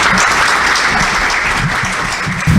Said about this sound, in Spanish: Y yo le ruego que recibamos al doctor con un aplauso